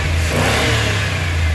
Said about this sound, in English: Hit the gas a couple times.